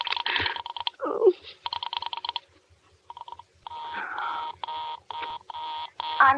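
A telephone busy signal on a Murray Hill line: evenly pulsed tone bursts repeating, with a couple of brief muffled voice fragments between them.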